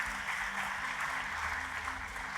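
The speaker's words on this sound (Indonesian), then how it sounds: "Tepuk tangannya pula yang paling meriah buat Tuhan kita" Crowd applause in a church service fills the whole moment, a dense, steady wash of clapping from a congregation at moderate distance, continuous without breaks.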